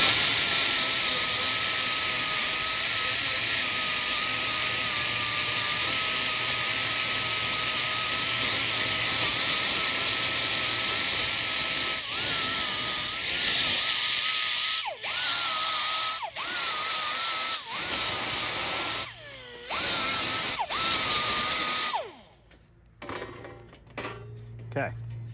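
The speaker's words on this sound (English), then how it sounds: "I am going to take my grinder now and smooth out these burrs from drilling them" An angle grinder smooths drilled burrs on the metal control panel of a Sinistar arcade cabinet, giving a loud, steady high whine that holds for many seconds, then breaks into several short bursts with pauses before stopping.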